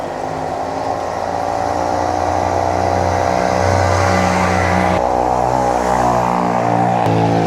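A motor vehicle engine drones steadily and loud throughout, with a low rumbling tone that shifts slightly partway through, like a bike running close by.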